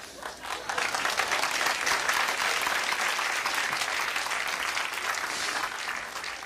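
A comedy show audience at a 1992 Denis Leary stand-up performance breaks into sustained applause, a dense, steady wash of many hands clapping that swells and holds for several seconds.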